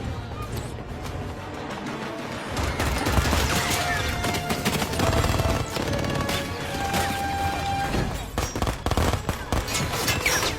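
Rapid bursts of gunfire from the 2015 film Spy crackle continuously, dense overlapping shots building louder after the first few seconds.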